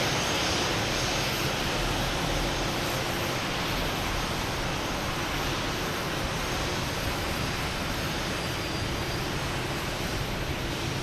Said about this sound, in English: Oh, we have Etihad coming in, 787